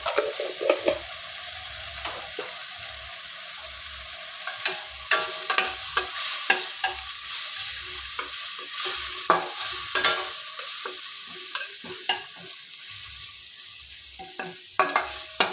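Cumin powder sizzles steadily as it fries in a pan, with frequent short scrapes and clicks of a spoon stirring it throughout, close and fairly quiet, no talking.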